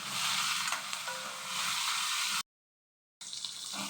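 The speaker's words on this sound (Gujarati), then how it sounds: "હજી સેજ સાતળવાના છે, 2 મિનિટ જ સાતળવાના છે" Gunda (glueberry) pickle mixture sautéing in a pan, a bright steady sizzle with faint stirring scrapes, briefly cut to silence before the frying hiss resumes.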